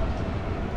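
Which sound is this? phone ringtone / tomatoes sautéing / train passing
train passing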